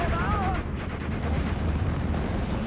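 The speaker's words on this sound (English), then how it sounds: "And here comes more off-map artillery." Off-map artillery barrage in the World War II strategy game Steel Division: Normandy 44 rumbles steadily and heavily, with distant booms merging into a continuous dense roar, mixed with faint voices.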